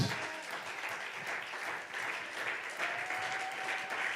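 A church congregation breaks into sustained applause, a steady wash of many hands clapping at moderate distance for several seconds, with no voices rising above it.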